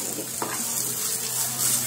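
Radish paratha batter spreads across a hot pan with a soft, close sizzle and a brief scrape of the spoon, short and steady, with no speech.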